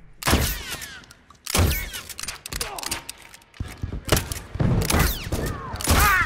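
Gunfire in The Last of Us, several sharp shots spaced a second or two apart amid game noise and mechanical clicks, loud and close.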